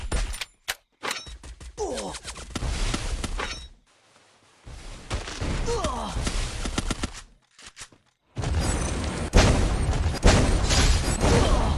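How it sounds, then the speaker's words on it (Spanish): Grenade blast and gunfire in an online shooter video game: loud, harsh bursts of explosions and rapid shots in long stretches broken by brief silences, close and dense throughout. "La granada me tumbó, pa"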